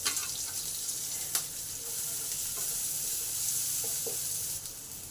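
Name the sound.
chopped onion frying in a pan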